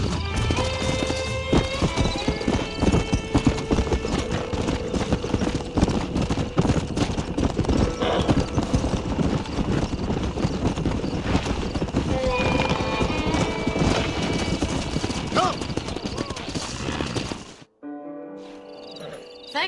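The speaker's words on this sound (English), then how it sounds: "We got some fine horses." Horses in the Red Dead Redemption video game gallop with rapid, continuous clip-clop hoofbeats and occasional whinnies over game music, the galloping stopping abruptly near the end before a brief quieter passage.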